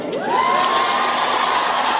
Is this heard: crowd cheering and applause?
yes